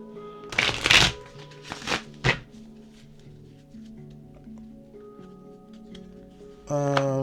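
Oversized tarot cards shuffled by hand, a deck of 53, giving several loud riffling bursts in the first seconds followed by quieter handling, with a voice starting to speak near the end.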